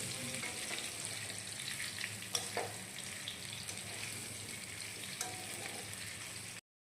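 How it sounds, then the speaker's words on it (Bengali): Potato pieces frying in oil in a pan give a quiet, continuous sizzle, with a few stirring scrapes and clinks scattered through, heard close up without talking. "আলু ভাজছো?"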